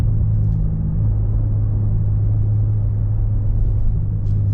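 A BMW M3 G80 drives at steady speed, its engine a continuous low rumble heard from inside the cabin, with no distinct rev change or shift clearly standing out.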